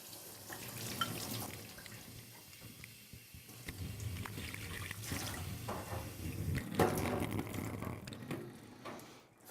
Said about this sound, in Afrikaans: is dit eintlik outomaties, water uit 'n kraan uit